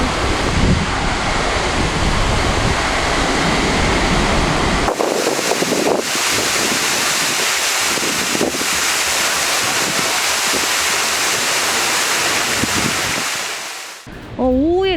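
A waterfall on Jeju pours straight down into the sea in the rain, a loud, unbroken roar of rushing water with heavy wind buffeting, cutting off briefly near the end.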